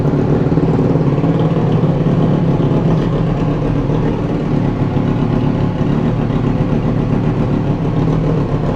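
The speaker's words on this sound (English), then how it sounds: "Okay, so it's doing 90 decibels at idle. Nice deep sound." A Triumph Street Triple 765RS fitted with an SC Project exhaust idles steadily, a loud, deep, close rumble that holds even throughout with no other sounds.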